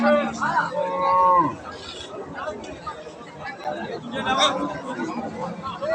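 At a cattle market selling young pregnant cows, a cow gives a long, loud moo close by at the start and another lower moo later, while people chatter and bargain around it.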